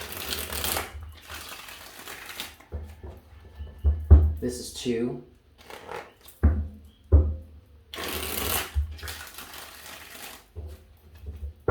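Tarot cards riffle-shuffled in quick crackling bursts, four repeated shuffles close up, with a person speaking briefly between them.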